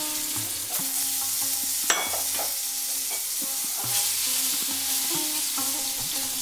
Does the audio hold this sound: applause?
no